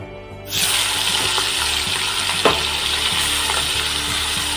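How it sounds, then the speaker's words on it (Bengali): Prawns dropped into hot oil set off a sudden loud sizzle that holds steady and close, with a few light clanks from the pan as they fry. "তেলটা গরম হয়ে গেছে, এবার চিংড়ি মাছগুলো দিয়ে দেবো"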